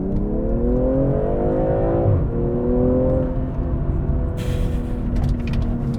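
A 2020 BMW M340i sedan accelerates hard, its engine note climbing in pitch before a quick shift and another rising pull, loud and close with no voices.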